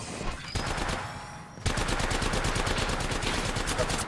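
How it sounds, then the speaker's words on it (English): Rapid bursts of video-game gunfire ring out in a sci-fi shooter, a brief volley followed after a short lull by a loud, sustained automatic stream of evenly spaced shots, close and dense with no talk. "Getting shot at. I'm taking fire."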